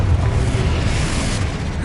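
A Confringo explosion spell cast in Hogwarts Legacy gives a loud, deep, rumbling boom that fills the whole short span with a sustained, heavy roar.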